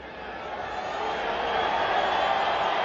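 Broad, steady crowd noise in a football stadium during a soccer match between El Salvador and Inter Miami, swelling gradually louder over a few seconds with no clear voices standing out.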